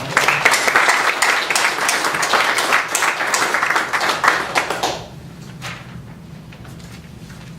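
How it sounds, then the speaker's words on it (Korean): A burst of church assembly applause, dense clapping for about five seconds, then it stops abruptly, leaving quiet room tone with a few stray claps. "임원 여러분 다 박수로 화답하시기 바랍니다."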